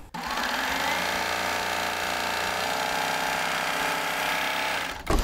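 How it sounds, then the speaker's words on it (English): A Baby Lock serger running at high speed while sewing a rolled hem binding, a loud steady mechanical whir with rapid stitching chatter that starts abruptly and stops near the end. "The Serger sews at a mighty quick lick."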